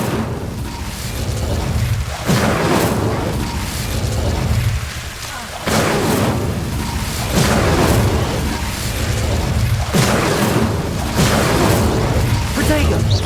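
Incendio fire spell cast repeatedly in the Hogwarts Legacy video game on Xbox Series X, a series of loud whooshing bursts and booms every couple of seconds over dense battle noise.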